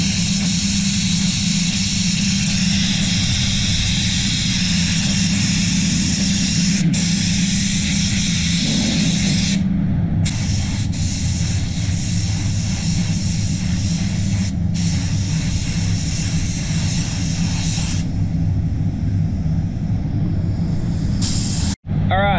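Spray gun laying PPG paint onto the bonnet of an Isuzu D-Max, a loud, close, continuous airy hiss running through with brief breaks, while a voice talks over the spraying at times.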